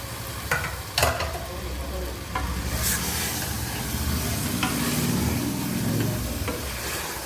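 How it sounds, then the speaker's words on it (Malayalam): Chicken biryani masala with yogurt sautéed in a pan, a steady close sizzle under repeated scraping stirs and a few sharp clanks of the spoon against the pan, with no talking. "എന്നിട്ട് നമുക്ക് നന്നായി ഒന്നും കൂടെ ഒന്ന് വഴറ്റിയെടുക്കാം"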